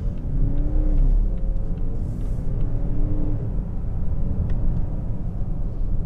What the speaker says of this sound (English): Okay, flooring it.